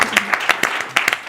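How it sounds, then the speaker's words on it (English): Conference audience at a digital security forum applauding, with a series of distinct sharp claps spaced irregularly, fairly close and moderately loud, with no talk over them. "I think we've all deserved a nice applause."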